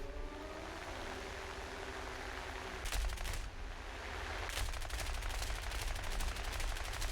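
Aircraft cannon and machine-gun fire in a flight combat video game, with rapid bursts of gunfire and a longer sustained volley over steady engine noise and no voices.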